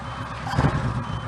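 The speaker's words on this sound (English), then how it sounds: "It would flash red and it'd beep like that as well." Warning beep from a Kawasaki Voyager VN1700 motorcycle, a steady electronic tone heard with some rumbling background noise, moderately loud and brief, no talking.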